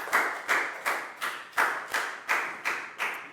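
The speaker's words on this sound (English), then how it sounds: "High five and a big round of applause for Chew" A classroom of Year 4 pupils clapping together for a classmate: nine evenly spaced, loud unison claps in a steady rhythm, with no talking over them.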